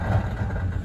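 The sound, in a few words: car engine running with busted CV joint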